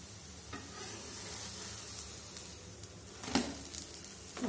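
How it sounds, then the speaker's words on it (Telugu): Aloo paratha frying in ghee and butter on a pan gives a soft, steady sizzle at low level, with a couple of brief louder crackles and stirring touches. "ప్యాన్లో కొద్దిగా నెయ్యి వేసుకొని మనం తయారు చేసుకున్న పరాటాని దాని మీద వేసుకుందాం"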